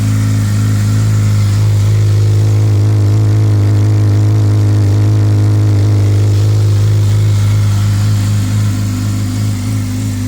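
A brand-new 2016 Yamaha R6 sport motorcycle engine with a slip-on exhaust runs loud and close on a cold day, a steady deep throbbing idle with the revs swelling and easing slightly, no voices.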